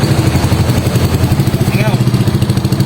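A motorcycle fitted with a Villain GP2 carbon exhaust idles loudly and close by, with a pulsing rumble from a leak where the pipe has not been tightened underneath. A brief voice cuts in partway through.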